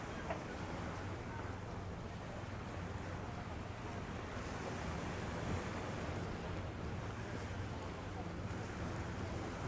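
Choppy sea washes against a rocky shore at Costa de la Calma, Mallorca, a steady, broad wash of surf mixed with wind buffeting the microphone, continuous and fairly close.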